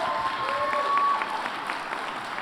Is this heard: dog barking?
no